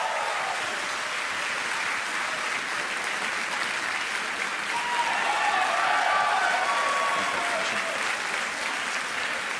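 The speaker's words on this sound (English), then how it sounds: "as you can hear by the applause" Steady, dense applause fills a SpaceX mission control room in Florida as stage separation is confirmed, sustained crowd clapping with a faint voice underneath.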